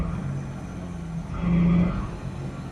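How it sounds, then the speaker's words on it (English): Classic car engine running rough and misfiring, not all cylinders firing, struggling and failing to pick up speed; a low steady rumble that swells briefly in the middle, close by and alone. "It won't accelerate."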